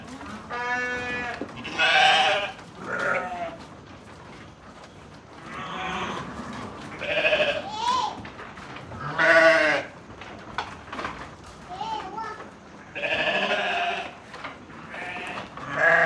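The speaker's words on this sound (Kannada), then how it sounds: "ಎಷ್ಟು ಅದಾವಲ್ಲ ಕುರಿ." A flock of sheep bleats repeatedly from varying distances, overlapping calls rising and falling across the whole stretch with no talking.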